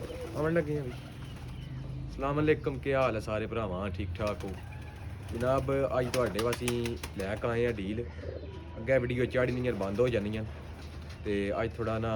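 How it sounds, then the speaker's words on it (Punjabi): Pigeons coo softly in the background, a group of around 32 birds, their low repeated calls running beneath someone talking steadily close by. "ਇਹ ਪਿੱਛੇ ਕਬੂਤਰ ਮੌਜੂਦ ਹਨ"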